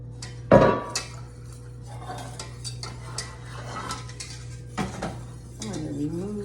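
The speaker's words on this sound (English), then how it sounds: "We've been whisking this." A whisk works a cheese sauce in a pot for cauliflower cheese, with quiet scraping and stirring broken by metallic clinks and one sharp knock against the pot, all close by and without speech.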